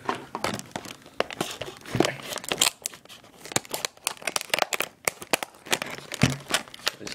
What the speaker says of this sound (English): I'm just gonna set you down so I can cut it open.